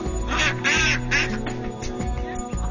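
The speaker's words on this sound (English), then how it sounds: "We've got the wildlife, the swans, the ducks." Ducks quacking repeatedly and loudly close by beside a canal, a lively overlapping chorus of nasal calls with no talking.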